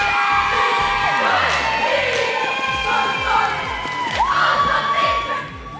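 A packed gym of frenzied fans at a high school cheer competition roars with sustained cheering, shouting and whoops, a loud continuous crowd wall with shrill peaks throughout.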